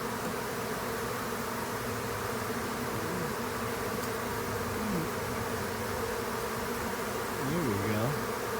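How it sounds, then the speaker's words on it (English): Many bees buzz in a dense, continuous drone close by, with individual insects swooping past and briefly rising in pitch over the steady swarm hum. "That's a lot of bees."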